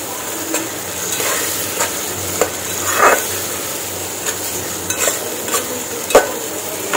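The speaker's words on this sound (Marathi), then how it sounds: "बारीक कापून घेतलेले टोमॅटो टाकलेत आणि छान परतून घेणार आहे." Finely chopped tomatoes sizzle in a pan for pav bhaji, with a steady frying hiss and repeated spoon scrapes and stirs close up, and no talking.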